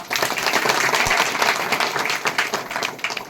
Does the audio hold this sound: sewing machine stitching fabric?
no